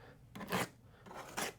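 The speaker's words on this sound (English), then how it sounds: "We recommend using a razor blade or a pair of scissors to go ahead and cut open all this tape." Scissors snip through packing tape on a box holding a Juki Miyabi J-350QVP sitdown longarm quilting machine, two quiet rasping cuts about a second apart, close and with no talk.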